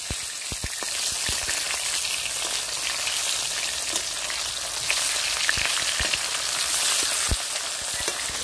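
Thick katla fish pieces frying in hot oil in a pan, a close, steady, loud sizzle with occasional sharp pops and crackles throughout, no talking.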